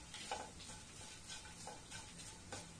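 Onions fried with black pepper powder are stirred in a pan for a yam stir-fry, giving a steady soft sizzle broken by several brief scraping strokes, close and fairly quiet, with no talking.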